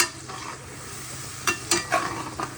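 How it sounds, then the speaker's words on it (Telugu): Coconut pulihora being mixed in a pan with a spoon, with a few scattered scraping clinks over a faint steady sizzle, close by and fairly quiet. "ఇప్పుడైతే కలుపుకుందాం"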